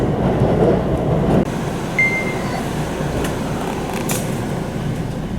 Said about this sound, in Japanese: 今は電車や車で橋を難なく渡っていきます。